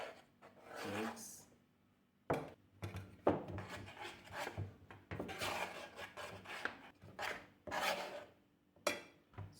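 Puff puff dough is being mixed by hand in a bowl at home, making irregular rubbing and scraping bursts that start and stop, fairly close and moderately quiet.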